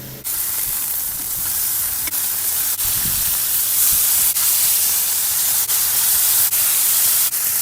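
Mayo-coated burger buns toast on a flat-top griddle for sliders, giving a steady, close, broadband sizzle with faint periodic clicks and no talking.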